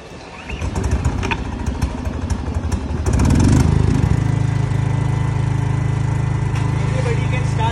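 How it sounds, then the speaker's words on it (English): A Bajaj 12.5 kW soundproof petrol portable generator is recoil-started: a brief pull rattle, then the engine catches and settles into a loud, steady close-up running drone, with a voice talking over it. "I'll start with the recoil and I'll show you."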